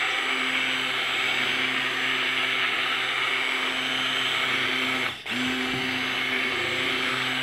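An immersion blender runs steadily, whirring as it mixes grated bar soap into a homemade body wash, loud and continuous with one brief dip near the end.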